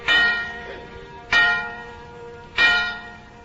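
A single bell, called the widow bell, is struck three times at even intervals, each strike ringing bright and close and then decaying slowly before the next one lands. It stands alone as a radio-show sound effect.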